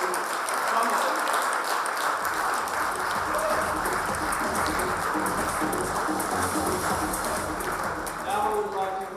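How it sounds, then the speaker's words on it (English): An audience at a Truecaller product launch event applauds in a sustained, dense wash of clapping, with a voice speaking faintly over it. "Let's give them an applause"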